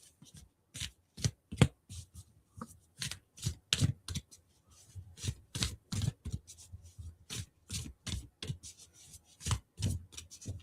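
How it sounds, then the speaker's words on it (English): A deck of oracle cards shuffled by hand, giving a steady run of close, crisp riffling and slapping bursts in an irregular rhythm, with no voices. "Let's give those a little shuffle."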